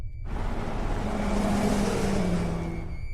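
For an audio drama, a car engine starts in a night-time forest clearing and the car drives away; a rumbling roar swells over a few seconds, then fades out.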